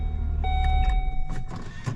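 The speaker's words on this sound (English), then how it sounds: "Car starts." A 2010 Volvo S80 starts with a short electric whine, a tonal chime and clicks, then a few rough bursts as the engine catches over a low rumble, nearby.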